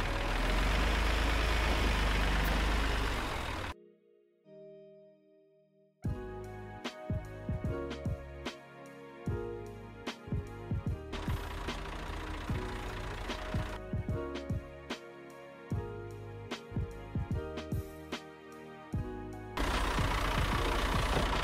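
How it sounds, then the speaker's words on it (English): A tractor engine cranks and starts after a brief pause, then settles into a steady, knocking diesel-like idle with rhythmic pulses, close and fairly loud throughout, no speech. "I'll start the tractor up and I'll take pressure off of the front tires."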